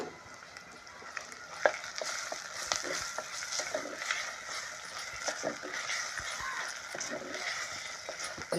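Ginger garlic paste sizzling and frying in a pan while being stirred, a steady crackle with scraping spoon strokes and occasional sharper clicks, close and continuous.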